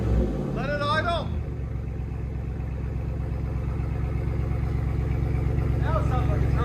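Straight-piped Ram 2500 Power Wagon with its 6.4L Hemi V8 idling close by, a steady deep rumble that holds throughout, with voices briefly over it at the start and near the end.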